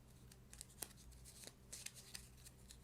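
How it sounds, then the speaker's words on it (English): A deck of fire cards from the board game Hotshots being shuffled by hand, a quiet series of quick papery riffles and flicks in irregular bursts, close and soft with no talking. "Then you will shuffle the fire card deck."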